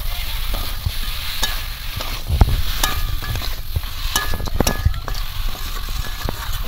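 Marinated chicken (desi rooster) coated in salt, turmeric and a little oil frying in a wok, with steady close sizzling and repeated scraping stir strokes throughout.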